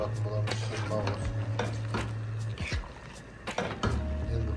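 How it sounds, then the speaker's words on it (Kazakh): Spices with paprika, salt, seasoning and bay leaf are stirred and fried in a pan, with repeated scraping and clinking strokes over a low hum, a voice speaking intermittently alongside. "Көп араластырып ұзақтау қуыратын боламыз."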